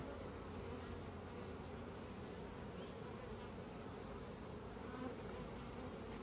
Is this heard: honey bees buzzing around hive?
yes